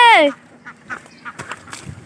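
A loud, nasal duck quack opens the clip, followed by softer scattered calls and faint voices in the background.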